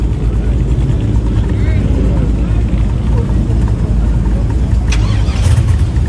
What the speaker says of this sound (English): What about that Mustang coming up?